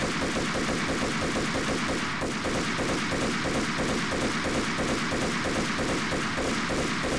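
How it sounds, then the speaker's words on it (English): Enemies fire on the player in the Max Payne video game, a loud, continuous rapid-fire barrage of repeated shots with a steady rattling rhythm and no pause throughout. "Why are these guys shooting at me?"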